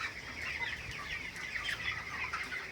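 Chickens in a poultry farm with raised slatted floors keep up a busy, steady chorus of overlapping clucks and chatter, close and continuous, with no talk over them.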